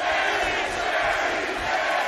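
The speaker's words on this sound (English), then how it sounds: "Huge crowd reaction here for Harris" A large crowd roars loudly and without a break at a Cage Warriors MMA bout in Dublin between Ger Harris and Ryan Hewitt, a dense wall of cheering and shouting.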